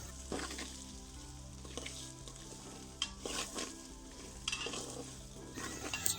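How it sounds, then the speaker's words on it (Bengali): Potatoes frying in oil with a little turmeric and salt until lightly browned, a steady close sizzle with occasional stirring scrapes and louder bursts, no talking. "আমার আলুগুলো হালকা ব্রাউন করে ভাজা হয়ে গেছে।"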